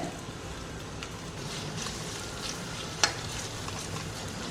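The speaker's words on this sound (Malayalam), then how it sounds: "നമുക്ക് പകുതി ഉള്ളി വറുത്ത് ഊരിയെടുക്കാം" Steady sizzling of onions frying in hot oil, a constant crackling hiss with one brief sharper pop; no talking.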